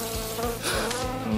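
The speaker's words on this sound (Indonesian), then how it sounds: "Oh, ada lalat." A fly buzzes close by, a wavering whine that rises and dips over a second and a half, heard alone.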